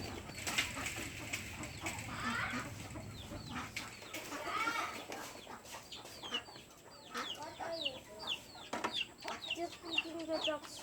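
Backyard ducks and chickens at feeding time, with hens clucking and birds calling repeatedly at close to mid range over a steady outdoor background, and a brief voice now and then.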